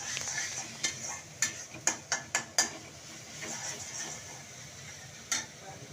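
Masala spices being sautéed in a pan, a run of sharp scraping knocks as a spoon stirs against the metal over a faint low sizzle, with a final knock after a pause.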